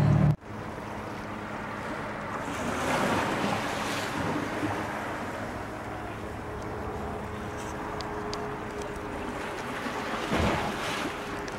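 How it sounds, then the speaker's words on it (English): Ocean waves at Key West, Florida, washing in with a steady, moderate surf rush that swells and recedes, mixed with wind noise on the microphone and no talking. "Just listening to the sound of the waves."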